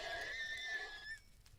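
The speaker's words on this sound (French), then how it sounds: "C'est des chevaux du désert." Desert nightmare horses from a Minecraft-style modded game neigh in a drawn-out, wavering whinny that fades after about a second, leaving quiet background; no talking.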